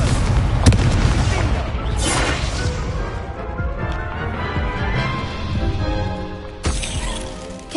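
An Incendio fire spell blasts in the wizarding game Hogwarts Legacy, heard as a loud, whooshing burst of fire with booming crash-like impacts and rumbling effects that fade and then flare again near the end.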